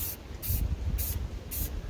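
A spray paint can hisses in four short, even bursts close by, with a low background rumble underneath.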